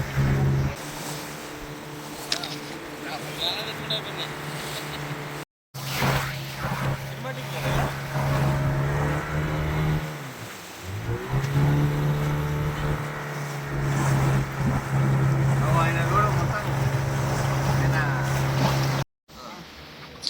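A motorboat carries passengers across the sea at Pondicherry, its engine droning low and steady beneath wind and water rush, with people talking over it and two brief dropouts.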